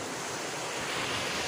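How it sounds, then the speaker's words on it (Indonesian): Surf on the sandy shore of Dana island in Sabu Raijua, East Nusa Tenggara, a coral island, a loud continuous wash of waves with wind buffeting the microphone and no voices. "memang ini saya di pinggir pantai"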